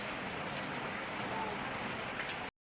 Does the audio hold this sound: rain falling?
yes